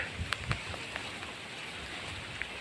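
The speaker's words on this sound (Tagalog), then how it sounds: "Dahil sa umaambon kasi dito tayo nakakasilong sa taas ng" Light drizzle falls outdoors under a coconut tree on a farm, a faint steady hiss of rain with a few scattered soft drop taps and no talking.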